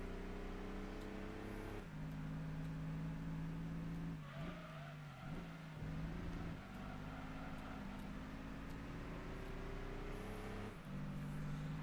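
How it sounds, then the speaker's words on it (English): Slow minivan engine in the racing video game Gran Turismo 2, a droning buzzy tone that holds steady, drops and climbs again between gear shifts, with tire squeal in the middle. "This engine sounds awful too."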